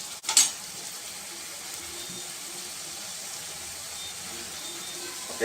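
Finely chopped tomatoes go into a hot pan for pav bhaji, with a brief splash and clatter at the start followed by a quiet, steady sizzle that continues alone.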